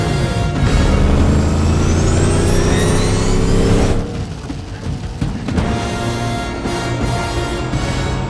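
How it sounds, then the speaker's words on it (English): The Batmobile's loud engine roars and revs with high tyre screeches over dense, busy background sound in a film scene, easing somewhat partway through. "The screeches from the tyres and the revving from the engine"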